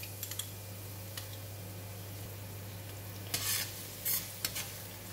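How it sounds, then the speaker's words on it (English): Garlic dropped into hot cooking oil in a pan fries with a faint, steady sizzle, broken by a few brief crackling pops near the end. "Oil is getting hot and I'm putting in the garlic."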